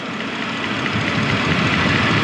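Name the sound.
hydraulics operating in a 2013 Equus VS500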